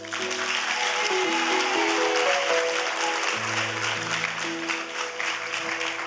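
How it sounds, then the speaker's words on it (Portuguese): At a revival vigil, a church crowd applauds a worshipper named Guilherme, a continuous wash of clapping layered over sustained keyboard or organ chords that shift underneath. "Uma salva de palmas pelo Guilherme."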